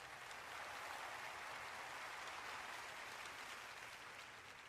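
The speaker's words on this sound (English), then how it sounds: "How about another round of applause for Bruce and all of our Disney legends?" Large arena crowd applauding at the Disney D23 fan event, a steady distant wash of clapping and cheering that holds evenly throughout.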